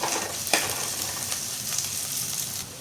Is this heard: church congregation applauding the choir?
no